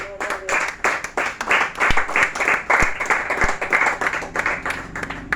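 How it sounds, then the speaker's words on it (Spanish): A church congregation at a Bible study on the Lord's Supper and foot washing claps in a loud, uneven round, with dense clapping rising and falling and a few sharp hits standing out near the front. "Denle un aplauso al Señor, hermano"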